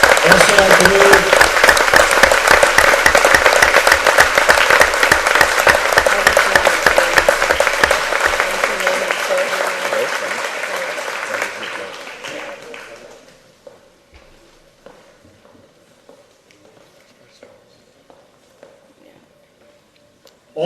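Audience gives a round of applause at a school dedications and thank-you ceremony, dense clapping that stays steady for about ten seconds, then fades out, leaving near silence with faint scattered sounds.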